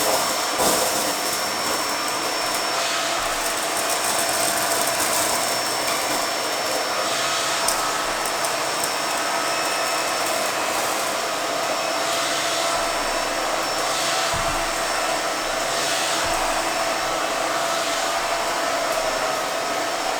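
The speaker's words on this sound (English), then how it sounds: "This is a 2-in-1 vacuum cleaner" A Bissell MultiClean Allergen Lift-Off 2-in-1 vacuum cleaner with an attachment sucks up oatmeal, a steady loud whining roar that runs without a break, with faint rattles and bumps now and then.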